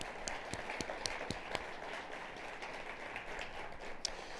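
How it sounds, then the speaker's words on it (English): Audience at a college of education keynote giving a round of applause, a faint, distant patter of clapping with a few sharper individual claps standing out early on. "Let's give them a round of applause"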